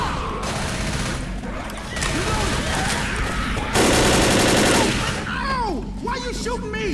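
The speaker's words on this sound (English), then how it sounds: "Why are you shooting me?" Sustained automatic gunfire in the zombie co-op shooter Left 4 Dead, with loud rapid bursts and a thick rattling volley near the middle, and faint voices underneath.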